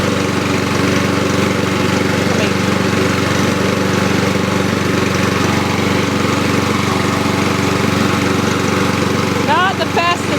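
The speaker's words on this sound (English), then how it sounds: "Not the fastest little mower ever." A 2011 Lawn-Boy self-propelled lawn mower runs steadily nearby, a loud continuous engine drone with no break, and a voice cuts in briefly near the end.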